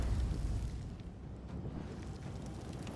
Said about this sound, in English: Let's do a wall of fire.